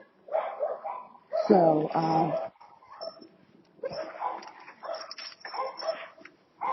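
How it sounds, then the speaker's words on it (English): Several dogs bark and whimper in bursts, yips and whines rising and falling, moderately close, alongside a person talking over them. "I know you hear the dogs now."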